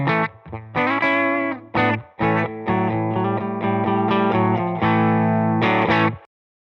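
Electric guitar through a transparent overdrive pedal into a Benson Monarch Reverb amp plays a short riff of punchy chords and single notes with gritty overdrive, ending abruptly in silence.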